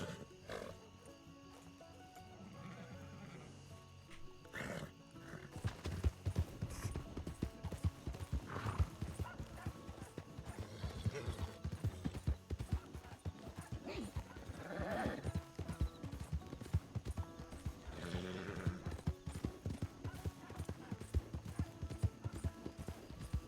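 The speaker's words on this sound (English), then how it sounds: "Also, horses go slower in grass," A horse's hooves clop steadily on grass in the RedM (Red Dead Redemption 2) game world, a rhythmic gait that starts quiet and grows busier, with a few snorts and whinnies over faint ambient background.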